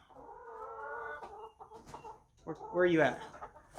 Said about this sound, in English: Come on, chickens, get in your house.